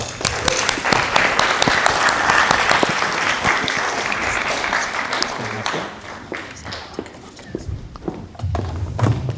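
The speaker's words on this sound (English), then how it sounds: "Can we now give a round of applause to Sangeeta Laudas, please?" An audience claps for several seconds, loud at first and thinning into scattered claps, with a voice speaking briefly under it.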